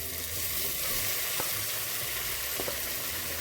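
Cooked chickpeas hit a pan of frying onions, giving a continuous loud sizzle with a few soft stirring knocks, close and with no talking.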